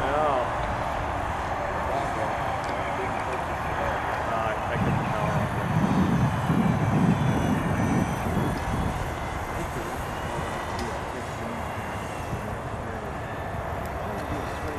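A model Beechnut PCA-2 autogyro takes off with a steady, moderately loud engine drone that swells briefly midway, with a faint voice in the background.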